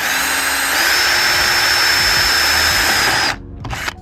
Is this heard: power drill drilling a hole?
yes